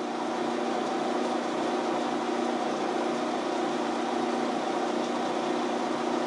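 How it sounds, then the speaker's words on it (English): A lathe running steadily during dynamic balancing, an even mechanical hum with a constant tonal whine that holds unchanged throughout. "turn the lathe on"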